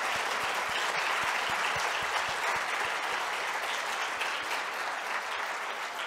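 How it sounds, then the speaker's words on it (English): Applause from an audience at a citizen science conference opening, a continuous sustained patter of many hands, fairly even in level from start to finish with a few distinct nearer claps standing out. "I think they have deserved an applause."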